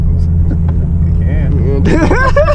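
Straight-piped V10 BMW M6 idling with a deep, loud, continuous exhaust rumble inside the car, while several people talk over it.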